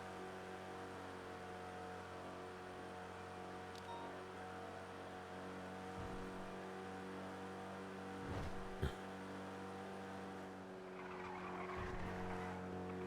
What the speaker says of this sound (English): Yeah, you can hear the tires screeching.